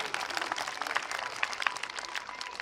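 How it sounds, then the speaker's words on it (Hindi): Guests and students at a public school Republic Day function clap for the staff, a lively patter of many hands heard at moderate distance with some crowd murmur underneath. "एक बार जोरदार उनके लिए तालियां बजा दीजिए।"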